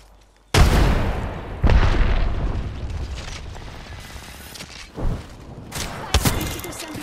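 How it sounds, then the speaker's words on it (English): A frag grenade blast in Apex Legends, a sudden heavy boom followed by rumbling decay, then further thuds and sharp impacts, loud and close. "Frag grenade set."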